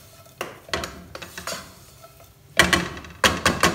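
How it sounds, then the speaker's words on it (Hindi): A spoon scrapes and clanks against a pan while chicken filling is stirred with garlic powder and chili sauce, irregular metallic knocks close by, with louder clattering strokes near the end and a light sizzle underneath. "इसको अच्छी तरह से हम सारी चीज़ों को इसके अंदर मिक्स कर लेंगे।"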